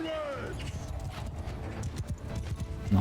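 Horses galloping during a battle in Mount & Blade II: Bannerlord, fast rhythmic hoofbeats with a brief whinny at the start, continuous and fairly close.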